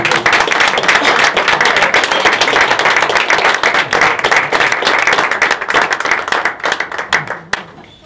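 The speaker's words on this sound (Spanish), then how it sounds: "Un fuerte aplauso, por favor," Audience applause at a classical guitar, voice and piano recital at Xàbia's Riurau music festival, a loud, dense burst of many hands clapping that thins out toward the end, leaving a few scattered claps.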